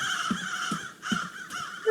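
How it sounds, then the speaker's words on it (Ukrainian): Crows cawing in the outdoor video game The Outdoors, three or four harsh, evenly spaced caws at moderate distance. "це вроді ворони"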